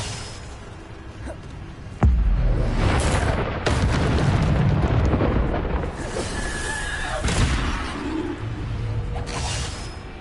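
A Bombarda explosion spell from the game Hogwarts Legacy booms suddenly and loudly, followed by a rumbling blast and debris noise, with further thuds and magical whooshes after it and no talk.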